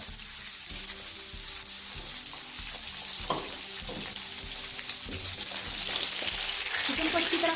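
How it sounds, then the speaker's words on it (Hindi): Chicken pieces frying in a pan with lightly browned onions, producing a constant close sizzle overlaid with repeated scraping and stirring strokes that grow slightly louder toward the end. "चिकन को अच्छी तरह फ्राई करेंगे।"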